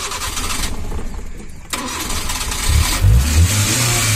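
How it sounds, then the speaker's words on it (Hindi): A Maruti Eeco van with a main fuse problem starts up close by: the starter cranks briefly, the engine catches, then settles into a rough idle with a slight rev. "गाड़ी स्टार्ट।"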